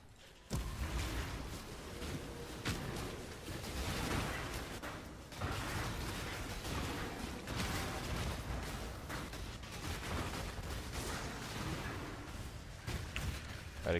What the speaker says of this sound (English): There's like corpse explosions right there.